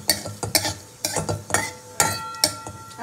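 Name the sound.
black cumin and dried chilies frying in a pan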